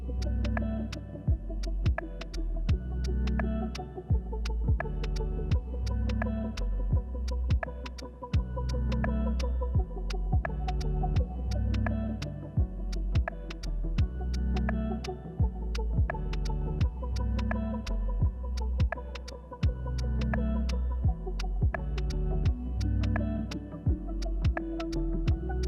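Creality CR10 V2 3D printer running a print with filament, a steady motor hum and throb with regular ticking pulses from the stepper movements, continuous and close, no voices.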